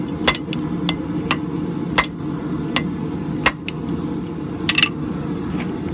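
Sharp, ringing hammer blows strike steel on the edge of an anvil while forging a nail header, about a dozen irregularly spaced metallic clinks over a steady background roar, likely from a forge.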